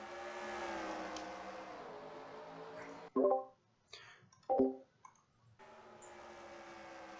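NASCAR stock cars race at Phoenix in NASCAR Racing 2003, engines droning at high revs, then a couple of sharp loud passes cut through before the steady engine roar returns.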